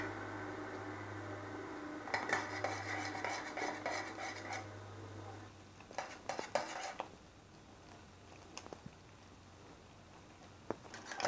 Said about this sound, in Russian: Последний раз перемешиваю, пенки снимаю